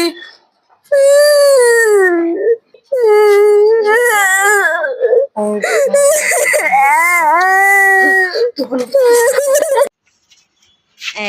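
A baby cries loudly and close by in repeated wailing bursts, broken by short gasping pauses between each cry.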